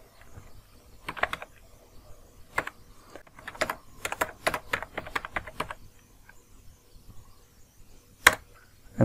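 Code is typed on a computer keyboard in short bursts of quick, crisp key clicks separated by pauses, close and alone in a quiet room.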